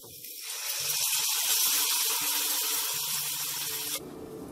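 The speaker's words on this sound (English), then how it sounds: "Now into this I will be adding this tomato and onion puree." Tomato and onion puree pours into a hot pan of fried ginger, garlic and chili, setting off a loud, continuous hiss and bubbling sizzle that holds steady before dropping abruptly near the end.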